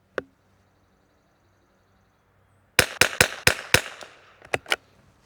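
A Tikka T1x .22LR rifle fitted with a Criterion barrel fires a rapid string of about six sharp outdoor shots in windy conditions, clustered closely after an isolated crack and a long quiet pause.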